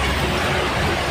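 A Sinar Jaya bus rumbles past at close range, a loud, dense, broadband roar of engine and road noise that fills the brief moment without pause, on a congested toll road.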